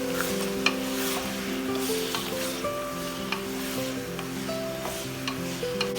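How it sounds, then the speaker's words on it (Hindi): Eggplant (baingan) fries in oil for baingan bharta, a steady close crackling sizzle with occasional light clicks of a spoon against the pan, no one speaking. "देख सकते हैं कि बैंगन हमारे बहुत अच्छे से फ्राई हो चुके हैं"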